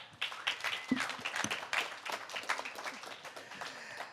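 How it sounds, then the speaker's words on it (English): An audience at a Demon Slayer Q&A session claps steadily throughout, a dense wash of many hands at moderate volume with no voices standing out. "Round of applause for that."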